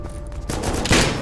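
Bursts of gunfire in the survival game Rust, a fast rattling volley that swells louder toward the end, loud and close.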